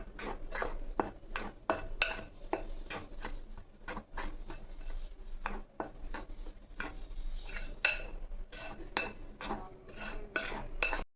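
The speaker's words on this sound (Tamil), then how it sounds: "இதை போட்டு நம்ம நல்லா கலக்கலாம்." A spoon stirs leftover idli batter with salt in a bowl for wheat bondas, making repeated quick clinks and scrapes against the bowl in an uneven rhythm, close by and fairly quiet.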